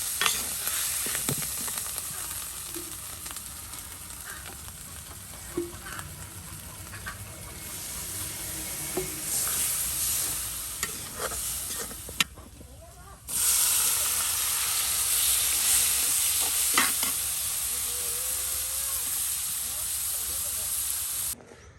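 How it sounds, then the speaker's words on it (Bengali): Meat stirred and fried in a pan in a village kitchen, a steady close sizzle and hiss with scraping stirs throughout, briefly cut off then returning louder and steadier. "এই যে এখন মাংসগুলো দিয়ে দেওয়া হলো"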